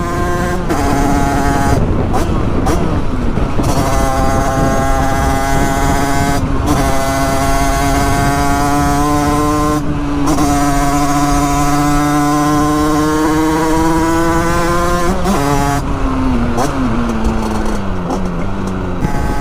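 A 50cc moped fitted with an Italkit AM6 engine revs hard, giving a loud, close, high-pitched two-stroke buzz that climbs and falls in pitch. A few brief dips break the continuous whine.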